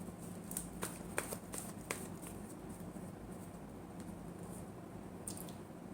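Tarot cards being shuffled make a quiet run of soft riffling snaps and flicks in irregular bursts, heard close up over a low steady background hum.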